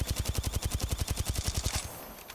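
The Volt gun in Apex Legends fires full-auto in a fast, steady burst of about twenty evenly spaced shots, loud and close, before cutting off into a short fading tail.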